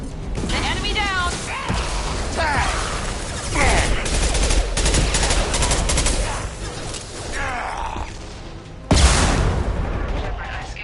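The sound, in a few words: gunfire in video game Mass Effect 2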